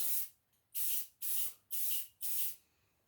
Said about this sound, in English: This is really the only thing that I spray paint is these tie-offs.